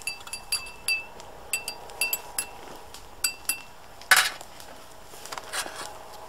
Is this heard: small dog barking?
no